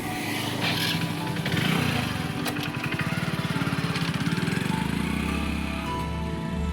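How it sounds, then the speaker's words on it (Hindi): A motorcycle is self-started and then pulls away, its small engine rising into a rapid, throbbing putter that stays close and loud before easing off toward the end. "आज का सफर मैं अपनी बाइक से करने वाला हूँ, तो सेल्फ दबाकर मैं निकल पड़ता हूँ अपनी मंजिल की ओर।"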